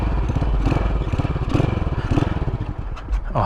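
A 1981 Yamaha SR500 single-cylinder motorcycle engine runs close up, with a loud, uneven thumping idle that sputters and pulses before fading toward a stall near the end.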